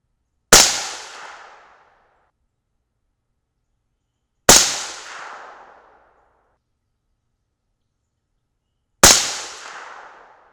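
Three rifle shots from a .223 Remington loaded with 65-grain Cutting Edge MTH bullets over 8208XBR and Varget powder. Each is a single sharp, loud crack with a short echoing tail, spaced about four seconds apart, with silence between them.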